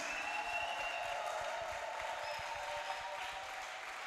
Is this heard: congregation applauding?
yes